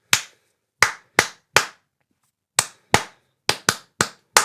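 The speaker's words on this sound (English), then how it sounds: "So you would clap it 1, 2." Hands clapping a simple duple-time rhythm for an aural test exercise: ten crisp, close, dry claps in short grouped patterns separated by clean silence, with no voices.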